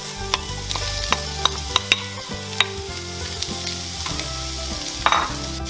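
Onions, peppers and zucchini fry and are stirred in a pan for homemade spaghetti sauce, a steady close sizzle broken by repeated scraping and clattering strokes of the utensil, with no talking.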